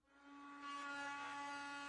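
A Drill Doctor 500 sharpener grinds a drill bit with a steady whining hum and a grinding rasp, close and constant for the whole stretch.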